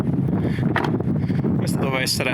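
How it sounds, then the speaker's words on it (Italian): Strong wind buffets a scenic outdoor viewpoint in a constant low, blustery rumble, loud and close throughout, while a person speaks over it. "c'è un vento spaventoso"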